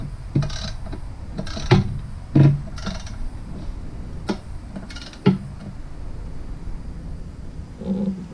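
Ratcheting torque wrench tightening a bolt on a Jeep TJ axle to 60 foot-pounds in a garage, producing a series of separate clicking bursts and rasping ratchet strokes with short pauses between them.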